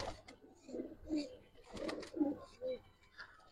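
A pigeon of an old-generation gribaz breed coos in several soft, low, rounded phrases close by, with quiet background sound and no talk.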